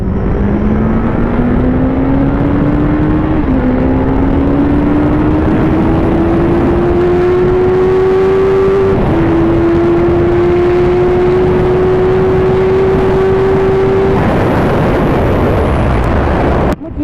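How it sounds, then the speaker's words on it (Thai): A Suzuki Hayabusa, twelve years old, screams through the gears toward 300 km/h, its loud engine tone climbing steadily with two brief dips at upshifts, under heavy wind roar and no talk. "เพื่อที่จะลอง กดเจ้าไฮยาบุสะ ด้วยความเร็ว 300 กิโลเมตรต่อชั่วโมงนะ"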